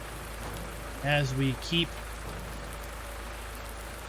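Rain falls steadily across a farm field in Farming Simulator 19, a constant broadband hiss running through the whole stretch while someone speaks briefly over it.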